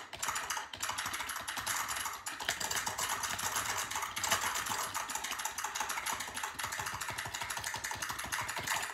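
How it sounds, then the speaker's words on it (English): Rapid typing on a mechanical keyboard with clicky MX Blue switches, dense crisp clicks in a fast continuous stream, close up with no talking. "So now I have MX Blue switches in my keyboard."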